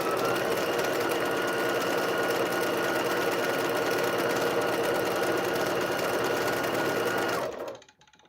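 A sewing machine stitches a quilt in a steady, rapid, close-up whir that runs continuously for several seconds and then stops abruptly near the end, with no voices over it.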